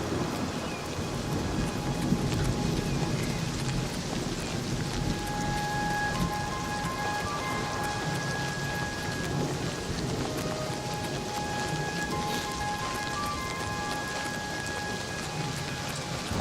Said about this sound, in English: Oh, it's raining, by the way.